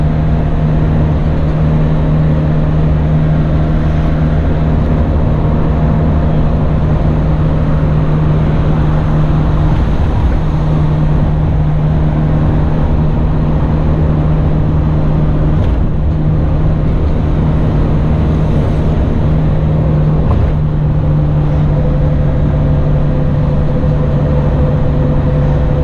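A 1983 Daihatsu Hijet driving in traffic, heard from inside the cab as a loud, constant engine drone with steady road and wind roar, unbroken throughout.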